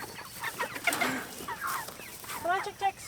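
Chickens clucking and squawking close by as they are herded to move along, a busy jumble of short calls with a few louder squawks, and no talking.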